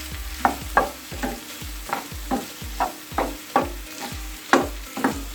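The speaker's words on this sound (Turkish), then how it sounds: "2 yemek kaşığı olan salçamızı ekleyelim. Kavuralım biraz." Rhythmic scraping of a spoon in a pan as tomato paste fries, over a continuous sizzle, strokes coming roughly every half second, with no voices.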